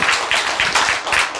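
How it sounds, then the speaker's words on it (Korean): Loud audience clapping during a Korean health lecture on healing allergic diseases, a dense burst of many hands applauding together in rhythmic surges, close and without talk. "박수!"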